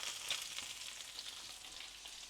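Pork chops fry in a pan with sprigs of thyme, giving a soft, steady sizzle with small crackles and pops, quiet and close, with no talking.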